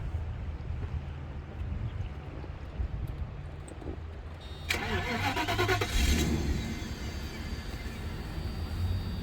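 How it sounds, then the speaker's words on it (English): A 1994 Mercedes-Benz W140 S500 V8 cranks and fires up midway, settling into a steady idle heard from inside the car. "hang on, I got to turn the car on"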